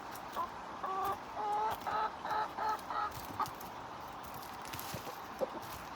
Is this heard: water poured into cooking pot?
no